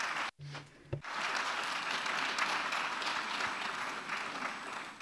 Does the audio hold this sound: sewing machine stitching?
no